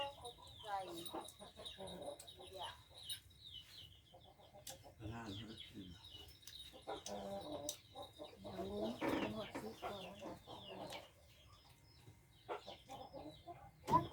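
Chickens, including white-and-black speckled birds, cluck in repeated short bursts close by on a farm, with occasional voices talking among them.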